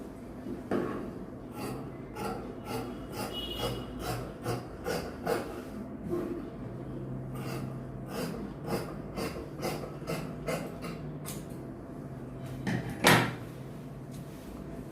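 Scissors cutting trouser fabric in a tailoring shop give a series of soft, irregular snips and rustles, close and fairly quiet, with one louder snap near the end.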